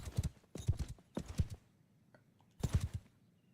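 Quick clusters of horse hoofbeats from the video game Mount and Blade clop in bursts of several steps, separated by short quiet pauses, fairly soft and close.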